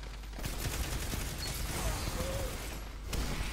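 Gunfire in Destiny 2 during a clan firefight, a continuous dense wash of shots and mechanical clatter at moderate level with a few sharper cracks.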